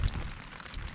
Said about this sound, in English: The wind's not as bad now, but it is raining. You can hear it coming down on the tarp.